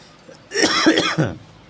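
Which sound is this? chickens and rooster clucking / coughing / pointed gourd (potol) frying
coughing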